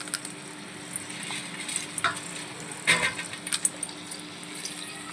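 Green cardamom, black pepper, cloves, garlic cloves and onion frying gently in oil on low heat for chilli garlic oil: a faint, even sizzle with scattered soft clinks and scrapes of stirring, close by and without talk.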